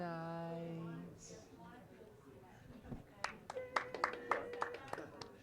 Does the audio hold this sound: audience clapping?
yes